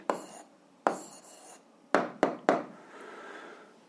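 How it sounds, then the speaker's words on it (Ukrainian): A pen writes out the answer to a 7th-grade algebra problem on paper, with several short, close scratchy strokes and a couple of sharp taps before a softer trailing scribble. "Ну що ж, записуємо відповідь, пишемо відповідь"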